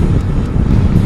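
Heavy wind buffets the microphone in a loud, continuous low roar while riding a motorcycle fast on an open road, strong enough to push the rider across the lane.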